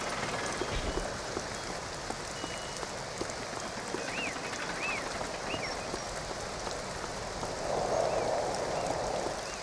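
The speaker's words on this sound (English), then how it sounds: "It's starting to rain." Rain falling in the video game Two Worlds, a steady dense patter on surfaces at constant loudness throughout, with a few faint birdlike chirps and a brief swell of heavier hiss near the end.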